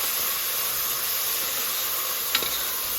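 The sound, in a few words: frying fenugreek leaves and mint in a pan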